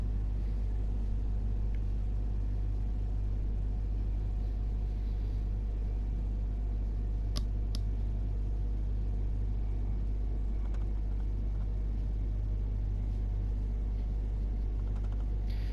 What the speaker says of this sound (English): Gatwick Express service going by, class 387.